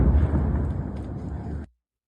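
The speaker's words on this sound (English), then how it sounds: "heavy explosions heard in Kadaj" Heavy explosions in Kadaj, a continuous low rumbling roar from a shared recording that stays loud and dense for about a second and a half, then cuts off abruptly into silence.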